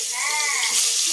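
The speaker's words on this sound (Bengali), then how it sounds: "এই গরম তেলের মধ্যে আমরা নুন হলুদ মাখিয়ে রাখা আলুগুলো দিয়ে দিচ্ছি।" Salted, turmeric-coated potatoes hitting hot oil in a pan for a country chicken curry, giving a steady, close, bright sizzle and hiss that holds throughout, with no talk.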